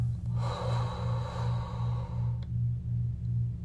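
One slow, audible breath drawn in and released, soft and airy in the foreground over a steady, softly pulsing low tone, with no talking.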